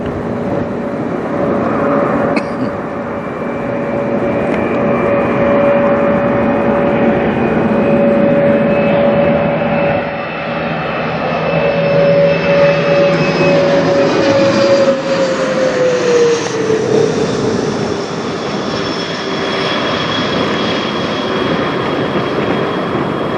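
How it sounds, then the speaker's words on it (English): A Bombardier Challenger 650 business jet operated by NetJets flies over near Toronto airport, a loud steady engine roar with a high whine that slowly falls in pitch as it passes. "next up we got a Bombardier Challenger 650 NetJets Airline N202QS."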